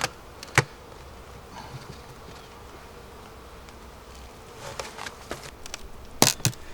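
Honey bees buzz faintly around an opened hive with a few ants on top, a low steady drone broken by several brief closer passes.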